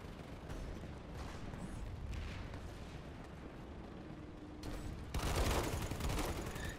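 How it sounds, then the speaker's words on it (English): Gunfire behind the player in a shooter game, light assault class, a dense rattle of distant shots and bursts blending into a continuous crackling din that grows louder and closer near the end, with no talking. "Hearing gunfire behind me"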